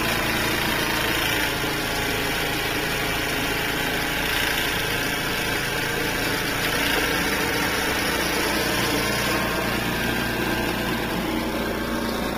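Craftsman snow blower clearing a snowy driveway in Kalispell, Montana, droning with a constant, loud, even engine roar that never lets up throughout.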